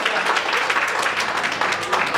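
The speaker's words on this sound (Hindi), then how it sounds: "तालियां बजाई जाती है।" Audience applause at a Hindi comic poetry gathering in Kanpur, a steady burst of many hands clapping that stays even and fairly close throughout, with no voices over it.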